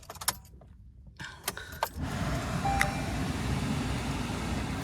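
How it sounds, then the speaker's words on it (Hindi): Keys jangle in the ignition of a Maruti Suzuki Fronx Delta Plus car, followed by the engine cranking and starting manually with the key, then settling into a steady, fairly quiet idle. "अब गाड़ी को स्टार्ट करके देखते हैं"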